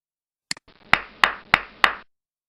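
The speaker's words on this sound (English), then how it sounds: "Applaud." A couple of small clicks, then four loud, evenly spaced hand claps ring out, each with a short echoing decay.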